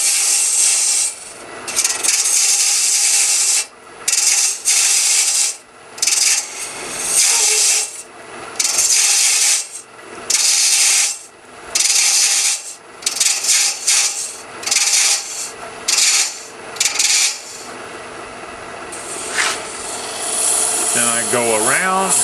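An Ellsworth gouge cuts wood on a lathe spinning around 2,000 RPM, giving repeated scraping, rasping passes in bursts a second or two long with short pauses between them, loud and close.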